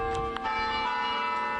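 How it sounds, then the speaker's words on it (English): Bells in a university campus bell tower ring out with sustained, overlapping metallic tones and a steady resonant hum, heard at moderate distance with no talking. "If the Carolina Spirit had a soundtrack, it would include the sound of bells ringing across campus."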